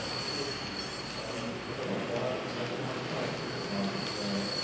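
A steam-era model railway in Germany runs continuously on its tracks, a steady wheel-and-rail rumble with light metallic squeal throughout, fairly loud and close with no voices.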